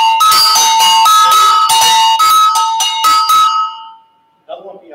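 Agogo bell played in a samba rhythm, bright metallic strikes alternating between two pitches in a quick steady pattern, close and loud, ringing out before a brief pause and a few faint trailing sounds.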